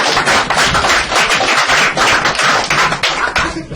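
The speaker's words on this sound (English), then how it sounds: "Give them a round of applause." An audience at a business talk claps loudly and steadily, close and dense, with individual hand claps standing out throughout.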